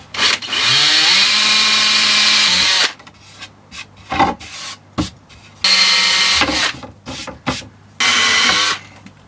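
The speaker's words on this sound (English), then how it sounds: "Wow, I managed to get 2 holes out of a dead drill." A weakening electric drill bores holes in a skateboard deck for a Razor E300 electric scooter: three loud whining bursts of a few seconds each, separated by clatter, knocks and handling noises.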